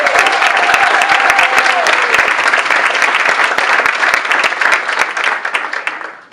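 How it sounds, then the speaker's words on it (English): Loud, sustained applause from a retirement party crowd honoring Maggie Johnson, a longtime Los Angeles city employee, dense clapping that holds steady before tapering off at the end. "So let's give Maggie another round of applause."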